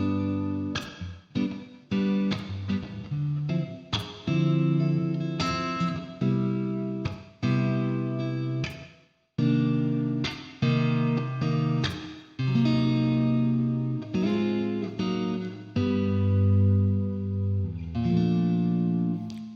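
Electric guitar strums a chord progression through effects, including a half-diminished chord, with rich sustained harmonic chords, distortion and reverb, and rhythmic stabs with short pauses, played loud and close.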